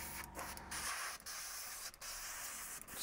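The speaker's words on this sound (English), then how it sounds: "just give it a good old spray" Airbrush spraying excess paint into a jam jar, a steady close hiss broken by a few brief pauses, with no talk.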